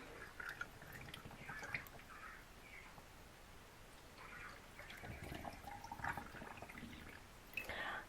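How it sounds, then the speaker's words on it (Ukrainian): Hot beetroot marinade poured into glass jars for winter preserves, quiet liquid trickles and soft splashes coming in uneven bursts, close and faint, with light clinks between pours. "і заливаємо наші баночки"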